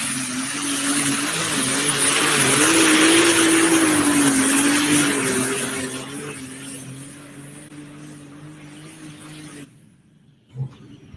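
A tractor competing at a truck and tractor pull in Windsor, Colorado roars loud and steady with a droning engine tone for about six seconds, then fades into the distance and cuts off, leaving a brief thump near the end.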